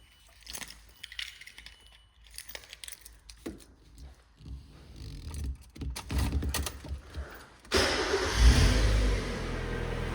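A 1997 Mazda MX-5 with the 1.8 engine is started: after a few clicks and handling noises comes the starter's crank, and then the engine catches into a loud, steady idle.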